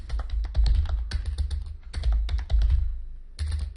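Bursts of rapid clicking on a computer keyboard, close and crisp, arriving in quick runs separated by short pauses, with no talk over them.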